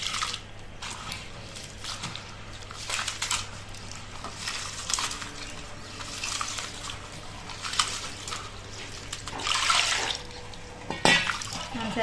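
Soaked lentils for adai dosa being rinsed and swished in water, with irregular close splashes, squishing and trickling sounds over a low steady background hum.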